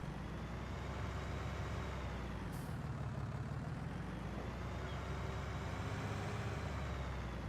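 A truck in a video game pulls up, parks and drops its trailer: a steady low engine rumble runs throughout, broken by one short, sharp air-brake hiss early on.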